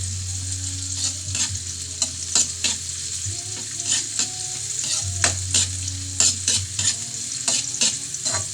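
Onion sautéed in a pan and stirred repeatedly, a constant sizzle under rhythmic scraping strokes of a spoon, with a low hum in the background and nobody speaking.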